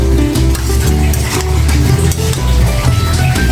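Dried nala shutki fish being stirred and fried with vegetables in a pan, a loud continuous sizzle with scraping stirs and light clatter of the spoon against the pot.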